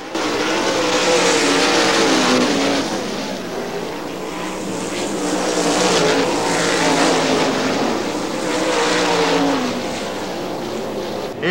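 IRA 410 sprint cars racing at Butler Motor Speedway in Quincy, loud engine roar rising and falling in waves as the pack circles the track, close and continuous.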